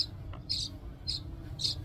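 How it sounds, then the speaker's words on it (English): Baby birds in a nest peep from overhead outdoors, three short high chirps spaced evenly, faint against low background noise. "We also have baby bird nest that's up here."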